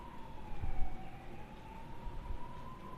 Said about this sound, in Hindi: I am hearing N ambulance